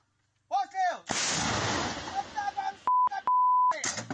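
A voice calls out, then a Ukrainian artillery gun fires one loud, booming blast at the front that rumbles and decays, followed by shouting and sharp electronic beeps.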